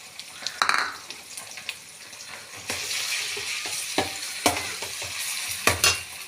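Ginger garlic paste frying in a pan for chicken Manchurian, a constant close sizzle broken by repeated spoon scrapes and clinks against the pan as the paste is stirred.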